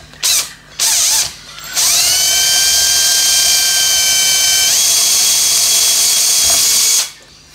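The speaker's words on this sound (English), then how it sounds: "So I'm gonna drill undersized." A drill whines at high speed through a wooden panel, boring a 4.5 mm hole, in a long steady run, pitch shifting partway, preceded by two short bursts and ending abruptly.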